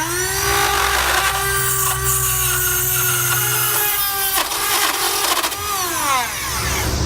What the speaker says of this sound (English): We'll just use a rotary tool with a grinding bit.